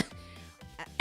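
A woman coughs during a casual chat stream; a sharp, brief cough bursts at the end after a quiet breathy stretch, close to the microphone.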